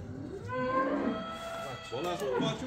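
A dairy cow moos in long, low, drawn-out calls on a farm, close by, with a brief pause between two lowing bellows.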